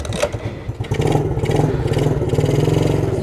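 An SSR SR70 automatic pit bike engine sputters to life and settles into a loud, close, rapid idle with a rattling, buzzy rhythm.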